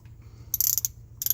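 A 1/2 inch socket ratchet gives a short burst of quick, bright clicks over a low background hum, then a second brief burst a moment later.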